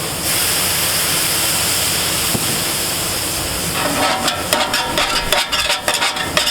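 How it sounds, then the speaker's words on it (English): Steady loud hiss of plain water hitting a still-hot flat-top griddle during cleanup, shifting after a few seconds into crackling, popping sizzle with scraping bursts. "Just plain water onto a still hot griddle."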